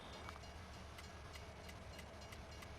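A train in the Farming Simulator 19 game on the Erlengrat map rolls along with a steady low rumble and a regular clickety-clack of wheels over rail joints, faint and continuous with no talking.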